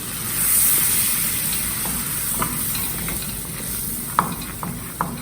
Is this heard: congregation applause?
no